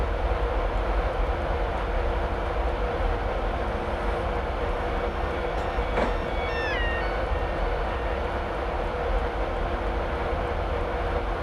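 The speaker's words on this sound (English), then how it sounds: "I'm just allowing the train to continue to coast down in speed now" Steady, loud rumble and rolling hum of a Class 91 electric train coasting down in speed on the Newcastle to Edinburgh main line in Train Simulator 2016, constant throughout with a brief click and faint squeal midway.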